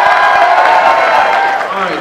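Crowd at a Philly Fest 2016 street show applauds and cheers a cactus as a stunt item, a dense, steady wash of clapping and voices lasting about two seconds.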